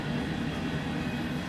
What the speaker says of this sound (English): So we've got our train coming up the hill